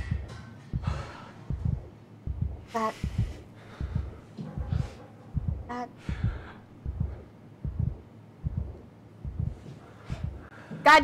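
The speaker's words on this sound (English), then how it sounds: "knowing that that's some dead woman's heart beating right now" Slow, steady heartbeat thumps pulse throughout a scene in the horror video game SOMA, deep and regular, with faint eerie tones and breathy sounds over them.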